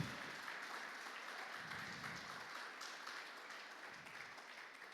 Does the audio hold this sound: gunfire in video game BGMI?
no